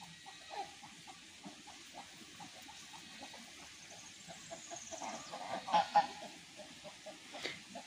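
Farmyard fowl with ducks and chickens give a scatter of soft quacks and clucks, mostly faint to moderate, with a couple of louder honking calls near the end, and no voices heard.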